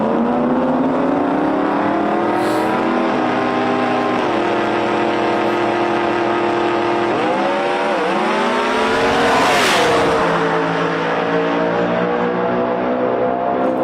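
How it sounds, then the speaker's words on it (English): Two drag race cars run down the track, one supercharged, their loud engines roaring alone with rising and falling pitch as gears change, a shift near the middle and a high whine peaking toward the end. "I don't know of any two cars going down the track that can make that sound"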